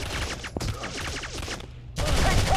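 Dense rapid gunfire from the shooter game Modern Combat 3, bursts of automatic fire and overlapping shots in a loud, continuous barrage that briefly drops before another heavy volley.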